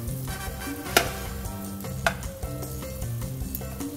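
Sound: butter sizzling in a hot pan

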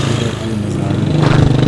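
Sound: motorbikes passing on mountain road

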